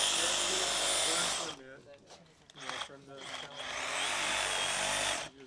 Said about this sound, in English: he's got a sawzall, and he's cutting the roots